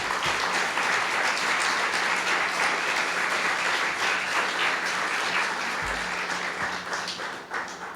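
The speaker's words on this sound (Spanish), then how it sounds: "Dale un aplauso al Señor, hermano." A church congregation claps and applauds loudly and continuously, a dense sustained wash of hand claps that tapers slightly toward the end.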